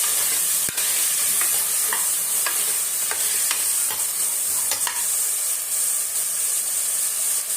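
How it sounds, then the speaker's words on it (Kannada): Black chickpeas (kadle kalu) are stirred in a hot cooking pan with a steady sizzle, with a spoon scraping and knocking against the metal at a loose, repeated rhythm, close and loud. "ఇక కట్లే కలాపుకుంటున్నాను"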